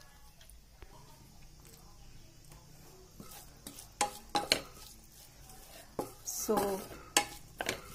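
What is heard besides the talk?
onions frying and being stirred in a pan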